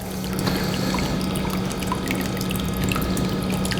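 A vacuum-sealed wagyu steak bag is lowered into a sous vide water bath, giving a steady close trickle and splash of water over a constant low mechanical hum.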